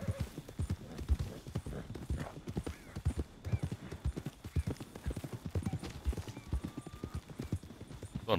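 Horses gallop in Red Dead Redemption 2, their hooves pounding in a fast, continuous rhythm up close, with a faint neigh partway through.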